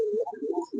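A Lakkha pigeon gives one short, soft, low coo with a rising and wavering tone, close by and clear, with no voices around it.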